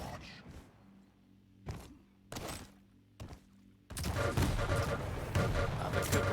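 Rocket launcher fire in a Quake Pro League match, with a few separate heavy thumping blasts at spaced intervals and then a sustained dense barrage of explosions and weapon noise, with a commentator talking over it.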